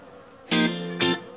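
During a top bar hive inspection, a bee buzzes close by in two short, loud bursts of steady hum, with a brief dip between them, against a quiet background.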